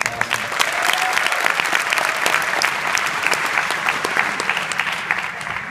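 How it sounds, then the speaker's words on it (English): Sustained applause from a crowd, many hands clapping densely and evenly for several seconds. "Wow, give them a round of applause."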